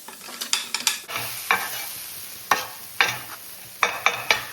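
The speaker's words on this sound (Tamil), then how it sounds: "இப்போ நல்லா நம்ம இந்த மாதிரி கொத்தி எடுக்கணும். டக்குன்னு கொத்தி எடுக்கணும்." Masala with chopped onion and salt frying in a pan, a soft background sizzle broken by sharp, repeated scraping and chopping strokes of a spatula against the pan, arriving in quick clusters and single hits.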